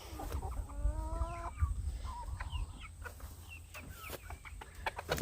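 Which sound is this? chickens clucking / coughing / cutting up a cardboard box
chickens clucking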